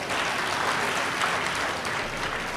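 An audience at a comedy speech breaking into applause, a dense, loud, sustained clapping that fills the whole stretch without pause.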